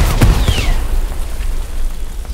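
A grenade explodes in the Hell Let Loose war game, near and loud: a brief crack gives way to a deep, rolling rumble that holds steady for a couple of seconds.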